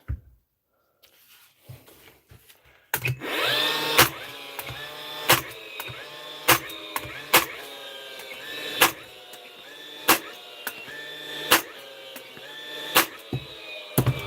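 An SDS power drill, freshly repaired in a workshop, runs on a piece of wood in a steady whining drone broken by sharp, regularly spaced hammering bursts, close and loud, with no talk.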